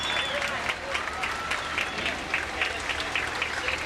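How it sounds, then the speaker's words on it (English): A crowd in the grandstands at a 1997 USHRA two-wheel-drive truck event in Chapel Hill, Tennessee, claps steadily, producing dense, continuous applause with no talking over it. "Let's give him a nice round of applause,"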